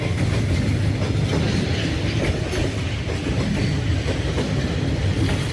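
A train rolls by on meter gauge track through Train Street in Hanoi, a steady loud rumble with clickety-clack from the wheels and a faint squeal, close and continuous with no talk.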